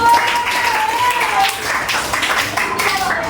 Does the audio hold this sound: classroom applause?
yes